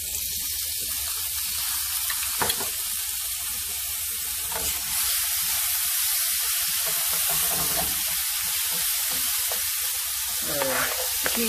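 Ginger and onion frying in leftover pork-rib oil in the same pan, a steady broad sizzle throughout with occasional faint stirring scrapes and clinks.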